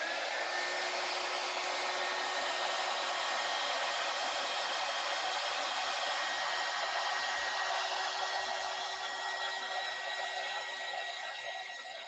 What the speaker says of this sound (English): I'm trying just helping the cells develop here with this heat gun.